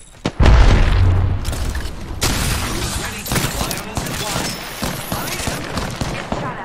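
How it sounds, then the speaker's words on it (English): Grenade explosions in a shooter video game, starting with a heavy boom followed by a dense, continuous roar of blasts and gunfire that stays loud throughout, with a voice talking over the action. "Look out, grenades."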